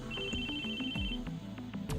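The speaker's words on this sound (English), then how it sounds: "I started in fright as my phone suddenly rang." A phone rings in the visual novel game CHAOS;HEAD NOAH, a repeating electronic ringtone pattern, steady and fairly quiet, set among background game music.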